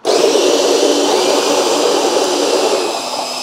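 An OXO Brew conical burr coffee grinder grinds beans on the coarse setting, a loud close-up whirring roar that starts instantly and runs steadily, easing slightly toward the end.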